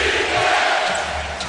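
A packed basketball arena roars during an NBA playoff game, Round 1 Game 3 against the Spurs: a loud, dense, steady wall of crowd noise with no pauses.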